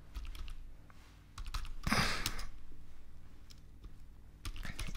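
Typing on a computer keyboard: quick, close key clicks in uneven bursts, with a louder cluster of strikes partway through, against a quiet background.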